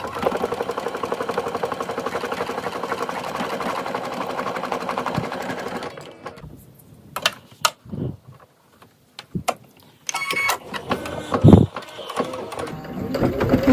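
An embroidery machine stitches faux chenille letters using yarn, a loud steady mechanical whirr that stops halfway, followed by scattered clicks and handling noises, then brief bursts of machine activity.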